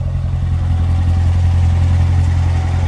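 Chevrolet Corvette C7 exhaust rumbling at a steady idle, a loud, deep, continuous drone recorded near the tailpipes with no talk.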